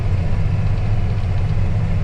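A small farm tractor's engine runs at a steady idle, a close, continuous low rumble with no breaks and no voices over it.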